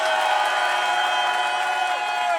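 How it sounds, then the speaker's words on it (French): Live audience at a French stand-up compliment-battle show making noise, a dense steady wash of crowd cheering and whooping that holds loud and even throughout with no gaps. "les nouveaux, ceux qui n'étaient pas là au premier, faites-moi un maximum de bruit"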